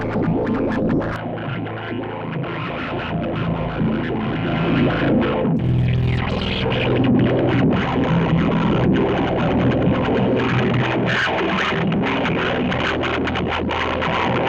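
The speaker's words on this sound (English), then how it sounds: "And then add some distortion." A Bazille software synthesizer with detuned oscillators, one raised an octave, roars through heavy distortion as a dense, buzzing, continuous wall of sound with shifting grit and a brief swell midway.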